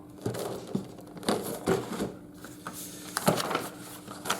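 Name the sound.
paper rustling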